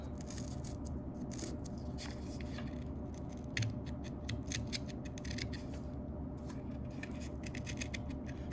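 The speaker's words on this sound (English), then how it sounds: "we're actually gonna take our scissors and we're gonna make a slit in them that goes all the way through" Steady scissors snipping a slit through cardboard, a series of crisp close cuts over a low background hum.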